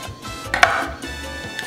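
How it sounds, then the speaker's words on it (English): A knife cuts through a jalapeno on a cutting board with a few crisp, close slices and one sharp tap, fairly loud, with no talk. "Slice it right down the middle."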